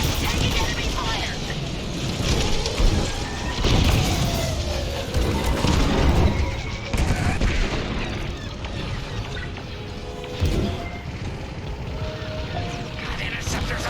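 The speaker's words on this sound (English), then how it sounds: "Taking enemy fire!" Blaster fire and explosions crackle throughout a Star Wars Squadrons dogfight against Imperial starfighters, dense and loud with steady booms and crashes, while pilot voices call out over the action.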